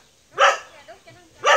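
A dog gives two loud, close barks about a second apart, with a few quieter whines between them.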